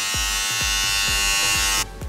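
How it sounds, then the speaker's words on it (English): A SpongeBob-themed electric toothbrush buzzing loudly and close, a continuous motor whine with a soft rhythmic pulsing, cutting out abruptly near the end. "we have our SpongeBob toothbrush"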